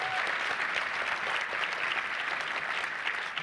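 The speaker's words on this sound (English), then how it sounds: "how about another round of applause for her speech, right?" A dinner audience at a foundation event applauds a scholar's speech, a thick, continuous wash of clapping from many hands that holds steady throughout.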